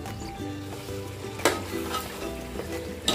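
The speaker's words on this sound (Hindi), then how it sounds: "चिकन को तेज आंच पे भूनते हुए 15 मिनट हो गए हैं।" Chicken sizzles and fries steadily in a pot over a high flame while being cooked for biryani, with occasional stirring scrapes and clinks of the utensil against the pan.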